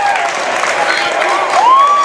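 A gym crowd at a high school boys' basketball game cheering and shouting as the final seconds tick down, a sustained roar with a sneaker squeak near the end, a commentator's voice over it.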